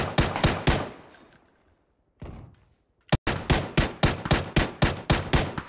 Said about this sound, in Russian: Да, папич стреляет